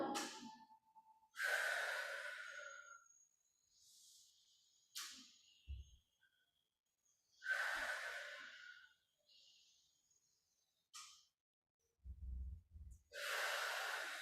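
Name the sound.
breathing, exhaling during a chair stretch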